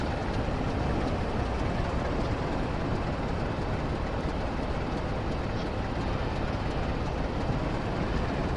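A Class 45 Peak diesel locomotive in Train Sim World rumbles in a dense, steady, loud roar of engine and rail noise, continuous throughout.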